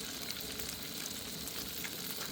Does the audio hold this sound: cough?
no